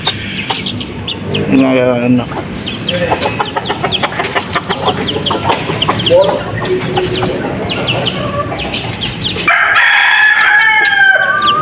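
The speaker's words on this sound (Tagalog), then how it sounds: "Ang manok dito." Chickens cluck constantly and roosters crow repeatedly, near and far, at a poultry farm, while a person speaks briefly amid the flock noise.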